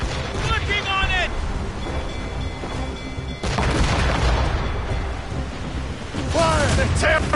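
Ship cannons firing in a naval battle in Assassin's Creed Rogue, heard as heavy booms and rumbling blasts amid wind and sea noise, with voices shouting over the barrage.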